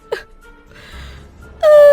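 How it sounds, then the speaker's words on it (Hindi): Someone cries in a dark dungeon cell in a spoken horror story: a short whimpering sob, a quiet gap with a faint breathy moan, then a sudden loud, drawn-out wail. "तभी उन्हें किसी के रोने की आवाज"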